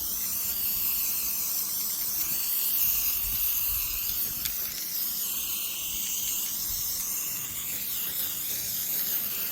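A nearly empty black spray paint can sprays in a continuous, steady hiss that runs throughout, fairly close and without talk.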